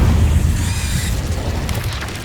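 A fiery blast from the Incendio spell in Hogwarts Legacy, a deep booming burst with a low rumble that rolls on and fades over a couple of seconds, loud and close.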